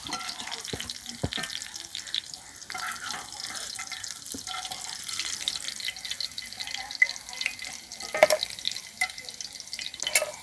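Chicken pakoda fries in oil with a soft, continuous sizzle and bubbling, mixed with occasional clinks and scraping from stirring, moderately quiet and close.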